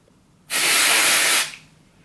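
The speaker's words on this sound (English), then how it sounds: "the nozzle here is a little directional spray nozzle, so you do get a fair bit of control over it" L'Oreal Magic Root Cover Up root-concealer hair spray released from a directional nozzle, one steady close hiss of about a second that starts and stops abruptly, heard alone.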